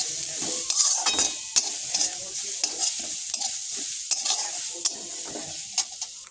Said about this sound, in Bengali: এবার গ্রেট করা গাজরটা দিয়ে দেবো, এটাকে এবার হালকা করে একটু নাড়াচাড়া করে নেবো।